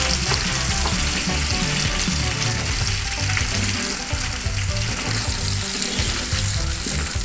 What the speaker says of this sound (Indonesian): pertama-tama kita goreng dulu bawang merah, bawang putih, dan batang daun bawangnya